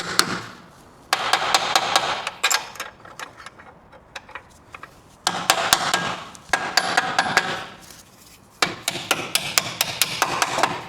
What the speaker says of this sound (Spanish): Vamos a darle unos golpecitos para tratar de subirlo más a su posición